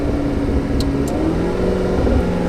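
A 2015 McLaren 650S Spider accelerates with its window down, the exhaust a steady, loud, low drone heard from inside the cabin without pause.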